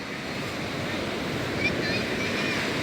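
Sea waves wash and surge around a boat crossing open water, a steady broadband rush of surf with wind buffeting the microphone throughout.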